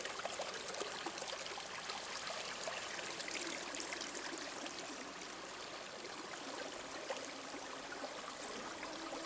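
Rushing water of rapids under cold winter air, a broad, constant hiss and gurgle of flowing water, steady and fairly close, with no voices.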